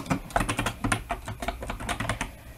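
Rapid, uneven keystrokes clatter on a computer keyboard, close and fairly quiet, with short bursts of taps and brief pauses between them.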